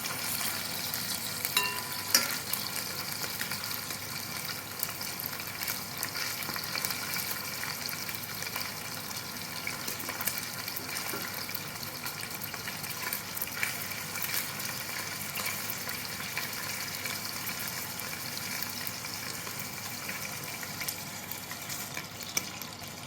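Meat browns in a pan for spezzatino stew, a constant fine sizzle and crackle with occasional light clicks of a utensil, steady and moderately quiet with no voices.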